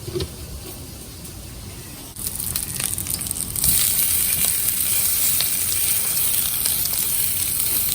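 Seafood for a seafood boil hits a hot, already-used pan and sizzles steadily, the frying growing louder and denser partway through with occasional crackles and pops, close up and with no talking.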